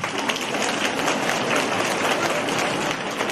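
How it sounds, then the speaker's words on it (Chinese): Audience applause fills the space, a dense, even wash of many hands clapping close and loud without pause. "鼓掌。"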